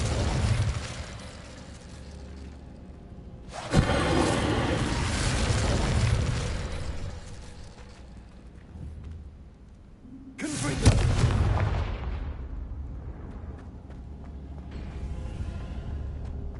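Fiery spell bursts in Hogwarts Legacy, two loud whooshing blasts with booming low rumble, each swelling suddenly and fading into a sustained roar amid game ambience.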